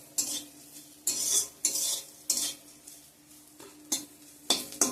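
Neem leaves fry in a pan while being stirred, giving sharp scraping strokes of a spatula against metal roughly every second over a faint, steady sizzle.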